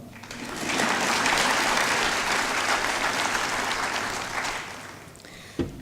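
An audience breaks into sustained, dense applause at a welcome ceremony, building quickly and holding steady before fading, followed by a single thump at the end.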